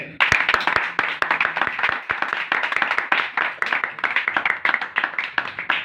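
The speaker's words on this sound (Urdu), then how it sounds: "ایک بار پھر سے زوردار تالیاں" A church congregation claps together during a Christian service, sharp individual claps building into a dense, rhythmic patter that pulses in quick bursts and carries on steadily without talk.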